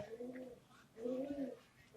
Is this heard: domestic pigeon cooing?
yes